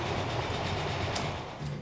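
A train running on tracks in the Transport Fever video game, a low continuous rumble with a soft rhythmic clatter of wheels, no talking.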